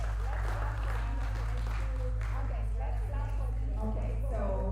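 An audience claps for high school team members at a men's mental health and wellness conversation event. The applause is steady and moderate, with voices talking over it and a low hum underneath.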